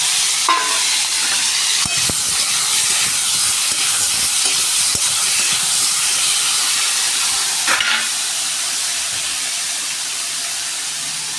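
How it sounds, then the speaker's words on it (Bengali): Tomatoes go into hot oil already holding panch phoron and dried red chillies, producing a loud, dense, unbroken hiss of sizzling steam that holds steady throughout with a few faint knocks underneath. "তো টমেটোটা দিয়ে দেবো"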